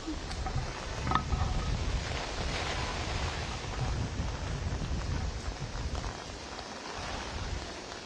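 Heavy monsoon rain falls in Mumbai, a steady dense hiss of downpour that stays loud and even throughout, with no voices.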